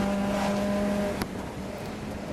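A race car lapping the Brands Hatch GP circuit, heard from onboard as it exits a fast left-hander toward Clearways, engine holding a steady high drone that briefly cuts and dips, loud and close.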